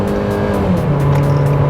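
Small Nissan Micra engine pulling hard under full throttle, a loud, steady drone whose pitch climbs slightly as the car gathers speed, with no talk over it.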